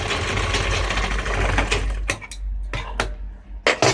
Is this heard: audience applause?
no